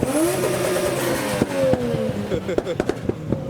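A diesel car engine revs and roars close by at a car meet, pitch sliding as it accelerates, then sharp popping bursts from the exhaust; faint voices mixed in.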